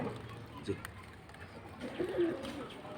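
Teddy pigeons coo softly at a pigeon sale display, a couple of low, brief coos amid background murmur and faint bird calls, with a voice speaking nearby.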